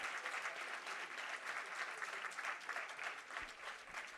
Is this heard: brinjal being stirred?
no